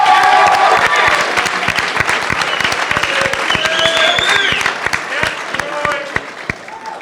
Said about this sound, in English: can we have another round of applause for all our participants tonight?